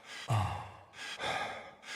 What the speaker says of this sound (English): Do not be alarmed when you hear the beginning of this tune with male heavy breathing.